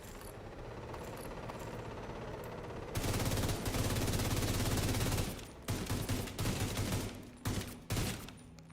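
Video game gunfire as a full magazine is emptied, a dense continuous burst of automatic shots that cuts off into a few scattered bangs and mechanical clatter, loud and close with no voices.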